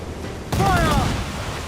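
Pirate ship cannons fire a broadside in Assassin's Creed 4, a sudden heavy boom that rolls into a rumbling roar. A shouting voice rises briefly over the blast.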